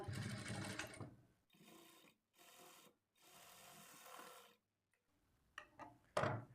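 A sewing machine stitches a plain blouse seam at a half-inch margin, whirring in several short runs separated by brief pauses, with a few clicks and taps at the end.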